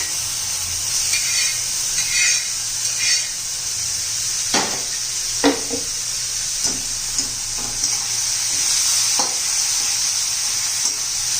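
Ridge gourd stirred in a hot pan, with a continuous sizzle and several distinct scraping spoon strokes in an irregular rhythm, close and fairly loud.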